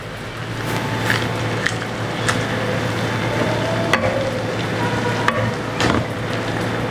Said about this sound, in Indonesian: kita tinggal masukin sayurannya, sisa sawi, jamur, dan juga daun bawang